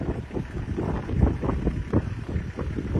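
Wind buffets the microphone in low, gusty rumbles on a frosty mountain pass in Tajikistan, steady and close, with no other sounds or voices nearby.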